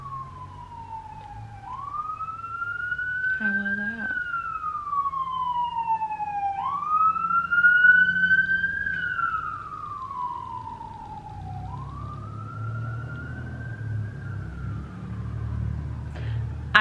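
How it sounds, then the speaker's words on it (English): Police sirens wail outside, rising and falling in slow repeated sweeps over a low traffic rumble, heard from indoors at moderate distance while a person briefly speaks. "the sirens and all these sounds outside."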